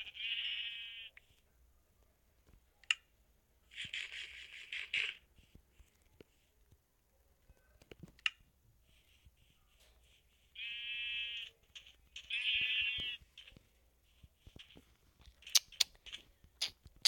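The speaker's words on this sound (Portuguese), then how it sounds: "ovelhinha, mata a ovelha" Sheep bleat in several loud, drawn-out calls separated by quiet gaps, with faint clicks and rustles between them and no talking.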